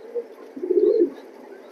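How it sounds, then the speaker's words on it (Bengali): A proven-line racing pigeon pair, both raced birds, coos nearby: a soft low rolling coo swells and fades in the middle, with short quieter coos before and after it. "প্রুভেন লাইনের এক জোড়া কবুতর"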